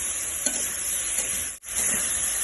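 Green banana pieces frying with spice paste in a pan give a steady, dense sizzle throughout, close and even, with a couple of soft stirring touches and one brief dip in the noise.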